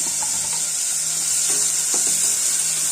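Steady hiss of hot oil sizzling in a pan as tomatoes and coriander are added, with a few soft clinks and stirring sounds scattered across it.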